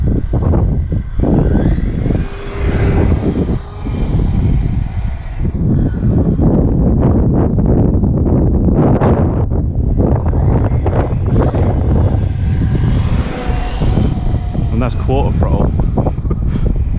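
A Traxxas UDR 6s RC truck at full throttle gives a loud, sustained roar over about seventeen seconds, with wind buffeting the microphone and the level rising and falling as it passes.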